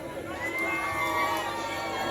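A crowd of women screams and cheers at a live dancehall performance in Negril, a dense, sustained, high-pitched roar that stays loud and steady throughout.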